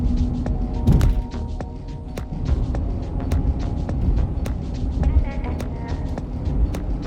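A 15-year-old Volvo XC60 drives smoothly, its low, steady road and engine rumble filling the cabin, with a few light clicks and thumps from inside the car.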